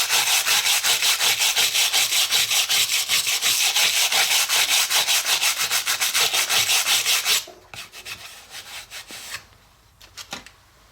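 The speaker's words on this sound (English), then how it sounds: "once you get the carving done, you can clean it up using a steel bristle brush." A steel bristle brush scrubbing carved wood boards, loud rhythmic back-and-forth strokes in a fast, regular beat for about seven seconds, then a few lighter, scattered scrapes and taps as the work tapers off.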